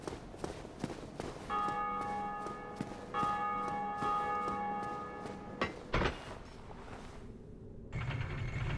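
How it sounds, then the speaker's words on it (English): A bell rung by a player in an online souls-style video game tolls repeatedly with clear ringing overtones, two sustained strikes in the middle, mixed with footsteps and game mechanism sounds. "every time that bell rings, it's a player in the game doing it"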